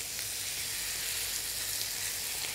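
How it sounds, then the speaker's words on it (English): Loud, steady sizzling and hissing of steak frying in a hot oiled pan, close up and continuous. "straight in with the steak, and it should have a nice sizzle"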